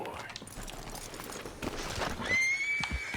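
A horse in Red Dead Redemption 2 whinnies sharply near the end, after a stretch of hooves and movement, loud and close over game ambience.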